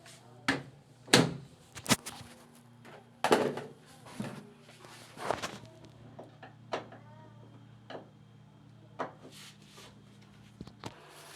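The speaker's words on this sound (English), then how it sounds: "They close the door." Front-loading automatic washing machine door being shut during a repair, heard as several sharp knocks and clicks spread over the span, with a low steady hum underneath and no talking.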